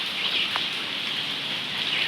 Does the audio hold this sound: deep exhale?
no